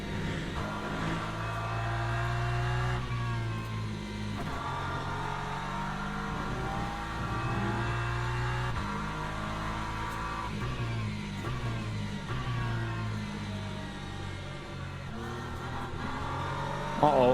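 A hypercar roars past in slippery, wet conditions in the Le Mans Ultimate racing game, its engine note rising and falling over a continuous layered drone of racing engines, with faint talk underneath.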